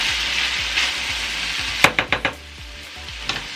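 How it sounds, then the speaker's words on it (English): Cottage pie mince frying in its own juices sizzles steadily up close while being stirred, with a short run of scraping strokes in the middle and a few more near the end. "Just give that a bit of a mix."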